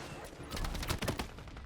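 Muffled bursts of rapid gunfire sound in a Battlefield 6 match played as a sniper. The faint, distant volleys crackle in quick clusters.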